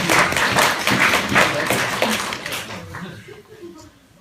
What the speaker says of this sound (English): Give Andrew a round of applause, ladies and gentlemen.